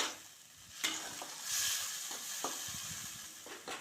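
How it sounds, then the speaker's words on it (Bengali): Chopped tomatoes fry and hiss in a pan. A spatula stirs and scrapes them in a few distinct strokes against a quiet, steady sizzle, with no voices. "টমেটো কুচিটা আমি ভালো করে একটু নাড়াচাড়া করে নেব"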